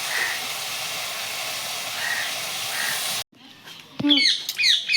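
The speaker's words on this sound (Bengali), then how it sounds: "এই দেখুন বন্ধুরা আমার এদিকে গুড় দিয়ে ফুলটা এরকম ফুটছে" Sugarcane jaggery boils in a pan for a jujube pickle, giving a loud, steady hissing bubble for about three seconds before an abrupt cut to quieter clatter and high chirping sounds.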